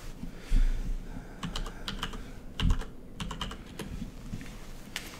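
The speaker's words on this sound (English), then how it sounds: "I'll type it in the chat room." Typing on a computer keyboard: a close, steady run of quick key clicks with a few heavier taps, over faint room noise and no speech.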